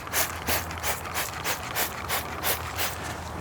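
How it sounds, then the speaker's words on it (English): Wheel cleaner sprayed from a trigger bottle onto the face and barrel of a ceramic-coated car wheel: about ten quick, evenly spaced hissing spritzes in steady rhythm, close by. "I'm spraying to the face and the barrel of the wheel."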